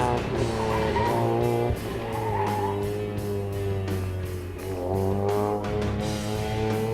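A drift car accelerating into a corner on a course with gates and cones, its engine droning loud and steady with rising and falling pitch as it revs, heard continuously without commentary over it.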